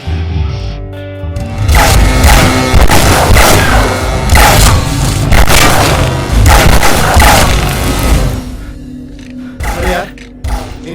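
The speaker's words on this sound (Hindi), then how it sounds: "फायर कर रहे हैं" Repeated heavy booms and sharp bursts of gunfire rumble loudly and continuously for several seconds, dense and overlapping, then thin out near the end.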